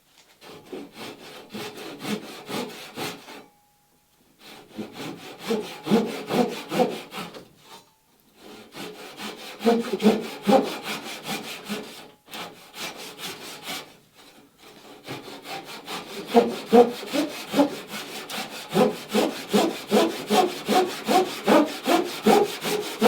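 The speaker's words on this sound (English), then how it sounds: "now we got a bevel to cut down this way" Hand saw cutting a bevel in wood while building a Catalina Wherry boat, with rhythmic back-and-forth rasping strokes in several bursts, each separated by a short pause, loud and close.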